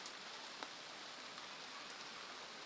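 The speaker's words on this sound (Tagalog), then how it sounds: "Naulan. Naulan." Steady rain falling on a garden, a soft, even hiss throughout with an occasional faint drip.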